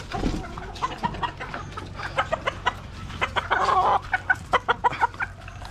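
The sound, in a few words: chickens clucking while being given feed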